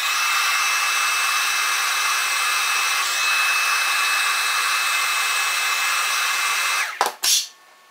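A heat blower roars steadily and loudly while heating the wrap on an 18650 battery, holding a constant whooshing hiss before cutting off abruptly with a brief sputter near the end.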